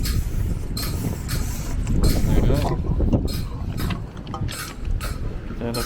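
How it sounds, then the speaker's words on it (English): A pump running during a rear tire change on a 1086 tractor, a steady mechanical hum and rush with clattering handling noises nearby and no clear talking. "turn this pump on a little bit so it will not"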